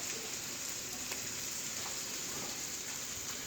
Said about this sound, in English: I'm going to get in here and keep stirring these squash, which are starting to smell real good